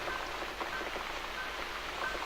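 Soft, steady rain falls throughout a dark scene in The Cat Lady video game, a quiet, even patter on surfaces with no voices.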